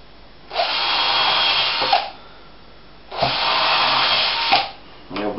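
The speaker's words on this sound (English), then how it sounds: "I'm just going to go through enough just to scar the leather on the side, without drilling it, just scarring it" A power drill scarring the side of a leather pouch without boring through, heard as two long, close whining runs of about a second and a half each, separated by a pause, then a short final burst.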